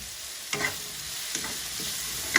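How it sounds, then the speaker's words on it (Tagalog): Pork, carrot and kangkong stems sauté in a pan, with a steady sizzle close by and a few light clinks as the utensil stirs, and no talking. "ituloy ko na po yung pagigisa dito sa pork. Ilagay ko po yung carrot, tangkay po ng kangkong"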